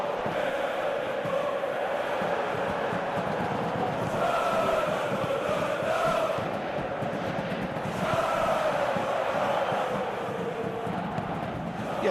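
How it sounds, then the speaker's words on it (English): Stadium crowd in an eFootball Master League match with Borussia Dortmund, a steady broad roar with swelling chants rising and falling throughout, no clear talk on top. "the crowd have tried to spark some excitement, but to no avail."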